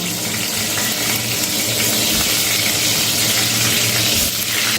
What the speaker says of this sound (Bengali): আমি ম্যারিনেট করা বেগুনের টুকরোগুলো ভেজে নেব